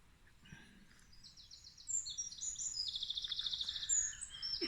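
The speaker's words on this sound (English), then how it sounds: "Birds are singing this morning in this lovely part of the town" Several birds sing and chirp on a morning in a residential part of Tralee, Ireland, with bright warbling phrases building from sparse calls to a steady, fairly close chorus.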